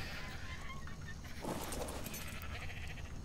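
Sheep (Ovis) in ARK Survival Evolved letting out one wavering bleat midway, fairly faint beneath a busy wash of ambient game noise.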